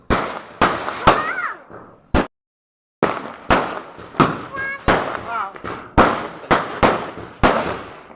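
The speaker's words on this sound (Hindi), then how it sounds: "हमने फोड़े खूब सारे पटाखे" Firecrackers set off outdoors during Diwali puja celebrations at a home, with children around: a rapid series of sharp, loud bangs about every half second, one brief gap of silence, with whistling crackers and voices mixed in.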